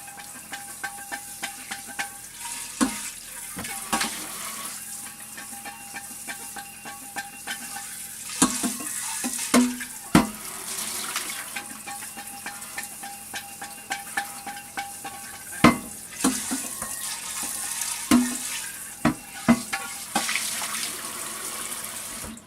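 A kombucha brewing jar being rinsed three times with water, giving running tap water, splashing and sloshing, with occasional hollow knocks and clinks of glass, fairly close and continuous over a long stretch.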